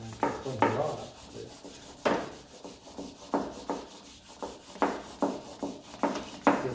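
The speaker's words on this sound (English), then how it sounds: "the sandpaper is coming up, so I work it and I can clean it off." Sandpaper rubs back and forth along the wooden case of an old Steinway piano under restoration, close and rhythmic, about a dozen scratchy strokes with short gaps between them.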